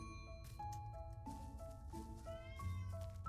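A cat meows repeatedly in the video game Little Witch in the Woods, a string of short tonal mews, some rising and wavering, set over soft background game music.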